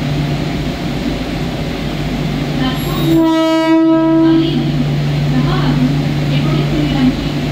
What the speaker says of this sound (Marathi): 10:17 की कल्याण प्लेटफॉर्म क्रमांक 1 पर आ रही है।